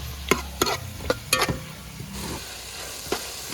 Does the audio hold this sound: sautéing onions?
yes